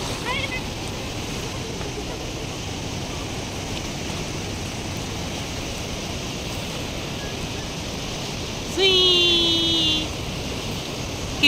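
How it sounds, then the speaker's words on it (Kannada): Waves of water released from the KRS dam crashing in a steady, broad roar with wind buffeting the microphone, and a brief whining tone rising above it near the end. "ಕಿವಿಗೊಟ್ಟು ಹಂಗೆ 2 ನಿಮಿಷ ಅಲೆಗಳು ಬಡ್ತಾ ಕೇಳಿಸ್ಕೊಳ್ಳಿ ಆಯ್ತಾ"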